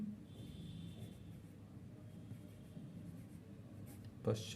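Pen scratching on paper while sketching and labelling a practice map of India, a soft, steady close scribble running throughout, ending in a couple of brief louder knocks.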